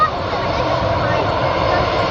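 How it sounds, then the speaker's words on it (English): A Loganair ATR-72 turboprop is at Manchester Airport, about to set off on the last leg of a long UK domestic route. It gives a loud, steady, broadband roar across the short stretch, with no voices heard. "the Logan ATR-72 about to begin the last leg of the UK's longest internal service"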